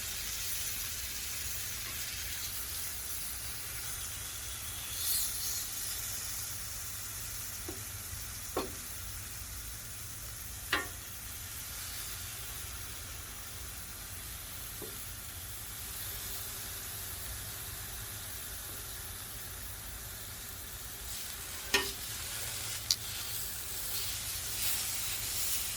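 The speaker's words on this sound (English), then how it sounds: "we're going to high sear these with high heat" Beef short ribs searing in oil over high heat on a flat top griddle, a steady hiss and sizzle running throughout with a few sharp pops and crackles.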